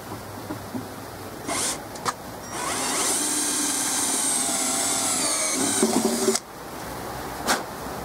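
A power drill bores the last hole in a metal part during a riveted assembly, a steady high whine for about four seconds that stops abruptly, with short tool bursts and clicks before and after.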